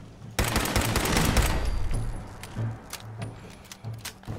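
Player's gun firing in Fallout 4, a dense burst of rapid close shots at the start followed by scattered single reports and quieter thuds, with no talking.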